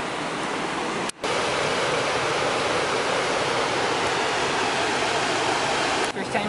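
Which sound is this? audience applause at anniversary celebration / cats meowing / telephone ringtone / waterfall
waterfall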